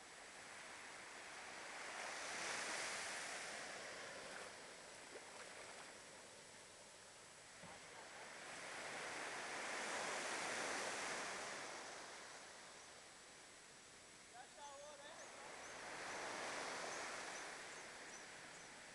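Surf rolls onto the beach at Ubatuba, Brazil, in slow swells that build and fade about three times, a steady broad wash of breaking waves with no voices.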